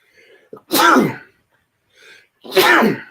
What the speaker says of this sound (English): Sorry, I sneeze.